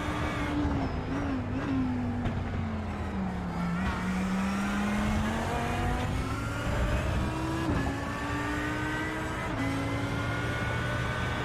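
GT3 race car engines at Laguna Seca in iRacing hum and shift pitch continuously, rising and dipping through gear changes and corners, loud and close with a steady drone from start to finish.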